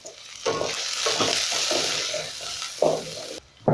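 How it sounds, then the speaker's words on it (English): Onions fry in a pot with a loud, close, continuous sizzle, broken by a few stirring bursts and a brief pause near the end. "I'm going to go in with my onions. I'm going to cook this until they start becoming translucent."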